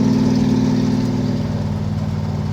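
A car engine idles with its exhaust valve closed, giving a steady, fairly loud low rumble with no revving.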